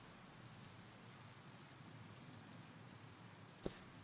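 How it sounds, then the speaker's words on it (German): Steady rain falls in the indie horror game Silent Mementos, an even, faint hiss of drops with no voices and a single brief click near the end. "es regnet"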